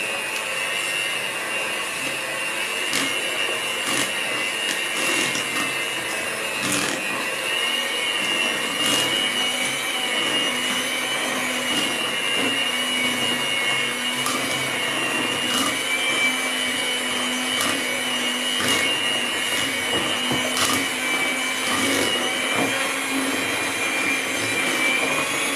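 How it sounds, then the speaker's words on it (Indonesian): A handheld electric mixer beats gluten-free steamed bread batter smooth, a steady loud whirring hum that runs continuously with small knocks and scrapes against the bowl. "ini mixernya kira-kira 5 menit sampai dia halus ya"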